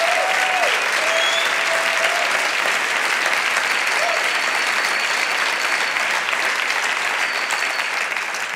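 Warm applause from an audience at a speaking event is a dense, steady wash of clapping that holds at an even loudness throughout, with a faint voice or tone heard now and then above it.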